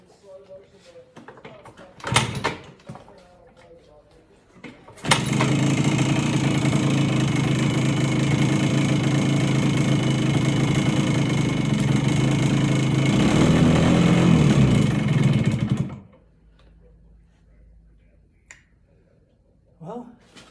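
A Yamaha DT 100 enduro motorcycle with a struggling engine runs at a loud, steady idle for about ten seconds after a short burst, then cuts out. Quieter handling noises and brief talk come before and after.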